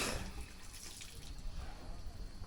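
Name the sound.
elephant drinking water from a hose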